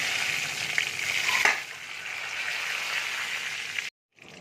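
A bay leaf hits hot oil, setting off a close, loud hiss and crackle that swells briefly, then settles into a steady sizzle before cutting to silence near the end.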